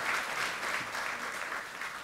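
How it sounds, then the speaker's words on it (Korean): A hall full of people applauds party leader Lee Hae-chan at a Democratic Party floor leader election meeting, a dense, steady wash of clapping without voices. "이해찬 대표님께 힘찬 박수 다시 한번 부탁드리겠습니다"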